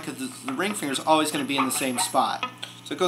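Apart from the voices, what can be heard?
No everyday noise stands out behind the speech.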